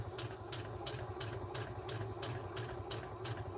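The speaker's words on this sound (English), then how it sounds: "what I'm going to do is I'm going to sew around the bag" A sewing machine stitching around the edge of a lined drawstring goody bag, its needle tapping in a steady, fast rhythm over a constant motor hum, close and moderately loud.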